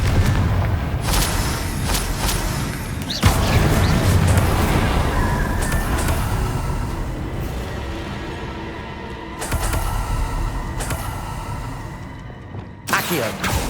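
Repeated Confringo blasting-spell explosions in the video game Hogwarts Legacy, heavy booming thuds with dense rumbling crashes, loud and continuous with a few sharp renewed bursts later, battle noise layered underneath.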